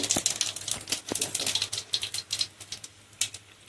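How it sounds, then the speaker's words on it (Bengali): Cumin seeds splutter in hot oil for a vegetarian pumpkin and soybean curry, giving a dense, close run of sharp crackles and pops that thins out toward the end. "জিরে দিয়ে দিচ্ছি"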